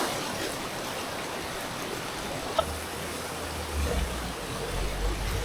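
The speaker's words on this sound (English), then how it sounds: "It's raining quite a lot right now" Steady heavy rain falls in Mindo, Ecuador, a dense even hiss with a low rumble rising near the end, no voices heard.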